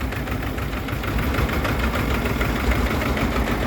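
A working two-cylinder Shintai mini tractor with a tiller attachment runs at a steady idle outdoors, a continuous close low knocking engine rumble with no talk over it.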